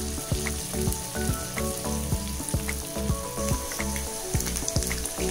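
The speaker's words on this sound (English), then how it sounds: "Add the chicken and deep fry." Oil sizzles and crackles steadily as chicken lollipops deep-fry, with sharp pops and spits breaking through the dense bubbling hiss.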